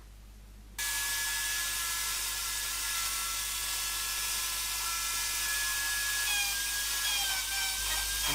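A router bit cuts along a wooden board, starting abruptly after a brief quiet moment and then holding a loud, high, steady whine with slight pitch shifts as the cut continues.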